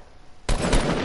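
A sudden burst of gunfire in a PS4 shooter game erupts after a quiet moment, loud and sustained for the remaining half second with dense rapid reports.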